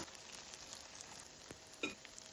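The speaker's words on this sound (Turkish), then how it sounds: "İyice ısınan tavamızın üzerine krep malzemelerimizi ekliyoruz" Crepe batter sizzles in a hot, oiled pan with a faint, steady hiss and a couple of soft clicks and taps from utensils, all quiet and close.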